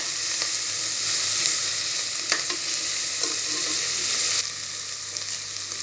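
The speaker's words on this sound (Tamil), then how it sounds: "இதுவும் நமக்கு நல்லா பச்சை வாசனை போகிற அளவுக்கு வதக்கி எடுத்துக்கலாம்." Ginger garlic paste sautéing in hot oil for chana biryani, a steady close sizzle and crackle with a few sharp stirring clinks, heard alone without talk.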